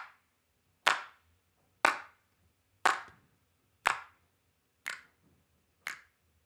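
Six crisp, layered hand claps sound in a slow, even rhythm about one second apart. Each is a sharp, bright snap with a short decay, and there are no voices.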